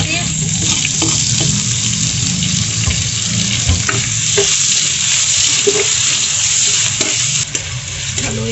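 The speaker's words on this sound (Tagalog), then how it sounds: "Haluin lang natin maigi hanggang sa lumambot yung kanyang kamatis." Tomatoes sauté with garlic and onion for pinakbet sa alamang, a loud steady sizzle close up with repeated scraping stirs through the pan and no talk.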